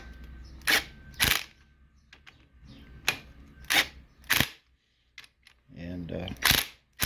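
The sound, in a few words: wrench tightening rod bearings on a 1929 Chrysler engine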